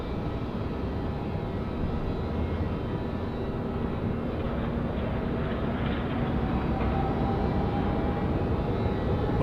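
Steady, loud broadband roar of a Cathay airliner's jet engines departing Sydney Airport at night, heard from a distance as a continuous rumble with no talking.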